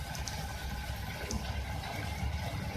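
About two cups of water poured into a cooking pot of beef liver, a quiet, continuous splashing trickle heard close up with no talking.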